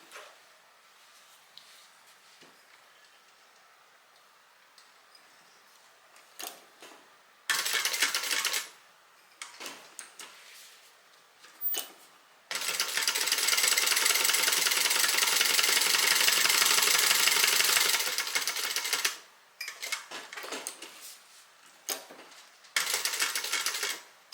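A sewing machine stitches bag pocket pieces in bursts of rapid mechanical whirring, one long sustained run in the middle and shorter runs before and after, close by with quiet gaps between.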